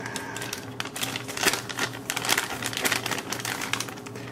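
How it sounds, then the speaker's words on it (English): Tape is peeled off the package of an ASM1061 SATA controller card, giving a close run of crackly ripping and crinkling bursts over a quiet background hum. "let's go ahead and just take the tape off this."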